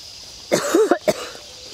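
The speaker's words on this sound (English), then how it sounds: "I'm coughing still because the air has been so bad." A person coughing because of chemical haze and bad outdoor air: a short cluster of three or four close, loud, raspy coughs, then quiet.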